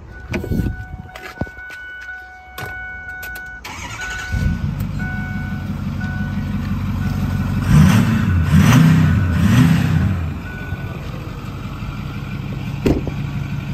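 A 2009 Ford F-250 truck engine cranks with a brief whir, then fires and settles into a steady low idle with a slight rev swell in the middle, heard up close and alone.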